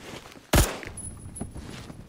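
A single loud gunshot from an M231 rifle in the shooter video game Phantom Forces cracks sharply near the start, followed by quieter game ambience and faint movement noises.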